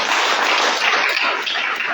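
Audience at a training event bursting into loud, dense applause, many hands clapping together in a steady roar with no break.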